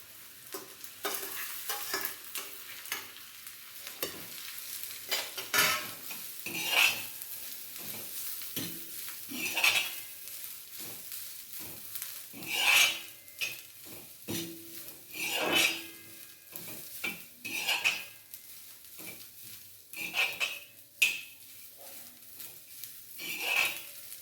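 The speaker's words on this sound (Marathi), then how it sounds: "कांदा आणि लसूण पाकळ्या थोड्या परतून घेऊन मग त्यात खोबरं घालणार आहे." Onion, garlic cloves and then coconut sautéing in a pan for a white pea amti, with a steady sizzle broken by repeated scraping stirs and occasional clinks of a spoon against the pan, close and fairly loud, with no talking.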